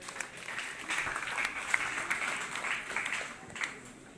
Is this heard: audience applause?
yes